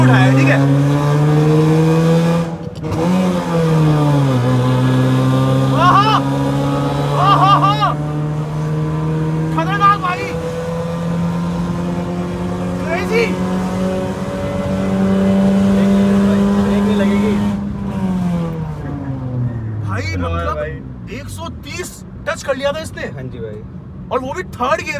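A loud car engine, billed as India's first AC car, is pulled hard in second gear. The revs climb steadily, then fall away near the end, with voices talking over it.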